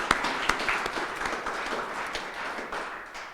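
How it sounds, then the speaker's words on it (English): Applause at an annual meeting, a moderate crowd clapping steadily, starting with a few sharp claps and then tapering gradually toward the end. "Let's give her a round of applause"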